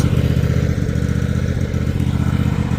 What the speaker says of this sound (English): those hydros are kind of making a little bit of noise